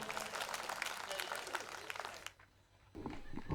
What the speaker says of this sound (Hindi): जोरदार तालियां बजाए कोमल नाजुक